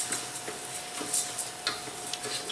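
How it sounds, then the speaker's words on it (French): Risotto rice toasting in olive oil in a pan, a soft crackling sizzle broken by light spoon scrapes and taps against the pan at irregular intervals, no talking. "on va venir le faire revenir dans l'huile d'olive"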